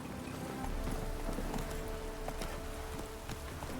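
Roach the horse galloping in The Witcher 3: Hearts of Stone, a steady run of hoof clip-clops over game ambience with a possible whinny, close and fairly loud with no talking.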